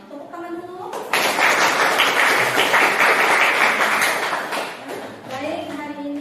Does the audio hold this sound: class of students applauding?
yes